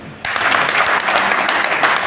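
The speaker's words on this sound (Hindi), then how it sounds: "सीआरपी से जोरदार ताली" Audience members at a gathering break into loud applause for a CRPF soldier. The clapping starts abruptly after a brief quiet moment and continues as a dense, sustained wash.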